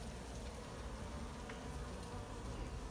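A dense, steady buzz of Africanized honey bees swarms around an exposed hive inside an old tire, loud and continuous with no pauses or voices.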